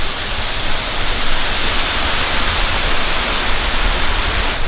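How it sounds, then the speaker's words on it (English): Loud, steady rushing roar of a waterfall in Olympic National Park, a continuous wash of noise that stays even from start to finish. "the waterfall is slightly underwhelming"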